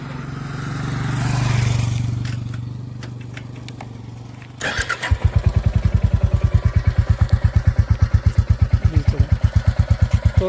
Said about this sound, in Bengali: তো চলেন আপনাকে সাইলেন্সের আওয়াজটা একটু শোনাই আমি।